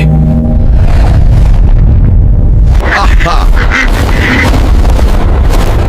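A giant cartoon duck quacks loudly and continuously over a dense, booming animated soundtrack, with no pauses across the scene.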